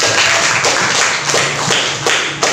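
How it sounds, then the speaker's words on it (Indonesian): Applause from a small classroom audience at an Indonesian art teacher performance assessment, with brisk, loud clapping running steadily for a couple of seconds alongside a few sharper slaps. "Beri tepuk tangan dulu"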